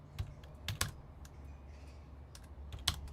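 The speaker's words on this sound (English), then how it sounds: "I'm just typing it up" Keys clack in short irregular bursts on a computer keyboard, fairly close and moderately loud against a quiet room hum, with no one speaking.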